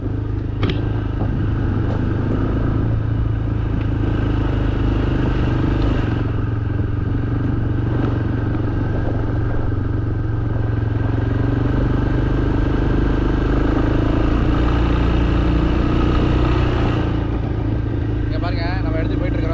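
An ATV engine hums loud and steady throughout an off-road ride in Krabi, Thailand, with a rider talking over the constant motor noise.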